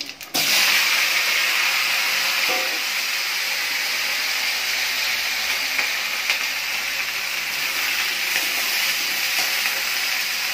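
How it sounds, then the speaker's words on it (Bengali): Vegetables sizzle lightly in hot oil left from frying fish, seasoned with five-spice and dried red chillies, a steady close frying hiss with occasional stirring that runs on alone. "সবজিগুলো দিয়ে আমি হালকা করে সবজিগুলো একটু ভেজে নেব"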